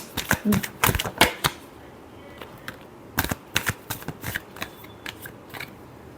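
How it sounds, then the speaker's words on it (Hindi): A deck of tarot cards is shuffled close by in quick bursts of crisp riffling and slapping, with a pause before a second flurry of shorter taps and flicks, no voices present. "last shuffle"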